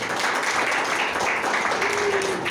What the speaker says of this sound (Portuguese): Uma salva de palmas para os irmãos.